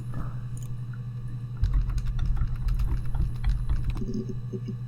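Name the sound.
computer keyboard typing in the Her Story video game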